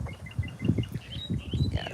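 Small birds chirp in short, bright bursts overhead outdoors beneath a cherry plum tree on a quiet dead-end street, light and moderately distant, with soft low rustling and handling noise underneath.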